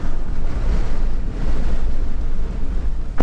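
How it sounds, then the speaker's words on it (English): Strong wind roars on the Oregon coast, blasting across the microphone in a constant heavy rush, with surf-like noise beneath the gusts and no pauses. "Oh my god, it's so windy."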